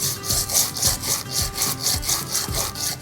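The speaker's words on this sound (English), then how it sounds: "So what we're gonna do is I usually just take a sandpaper," Sandpaper sands the bottoms of dry clay pots in a steady back-and-forth rhythm of close, rough rasping strokes, about two per second, with no voices.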